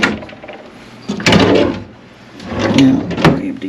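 A wooden drawer in a cabin rental slides open and is pushed shut, giving a pair of loud, close scraping thuds separated by a short pause.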